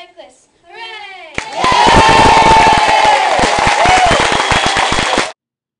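A large outdoor crowd cheers, claps and whoops loudly for cyclists finishing a charity AIDS ride at its closing ceremony, a sustained roar with dense hand claps, preceded by a brief voice.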